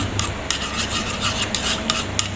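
Steady scraping, rubbing stir of a breast milk soap base being mixed to clear out bubbles, a close, continuous rasping texture with small rhythmic ticks and no talking.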